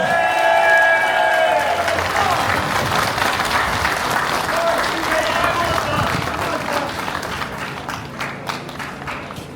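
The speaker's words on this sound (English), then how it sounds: "Give this man a round of applause." Sustained applause from a crowd greeting a man brought up to speak at a local protest, steady dense clapping for several seconds that slowly thins and fades toward the end, with a little indistinct voice mixed in.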